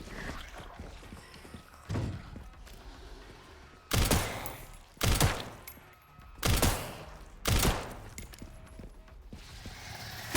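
Bursts of video game gunfire, several separate volleys spaced a second or so apart, loud and close, over a low mechanical background with faint clicks.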